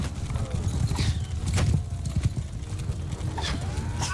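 Horses galloping in Mount & Blade II Bannerlord, fast rhythmic hoof clip-clops close by with a brief whinny, under battle ambience and a faint voice.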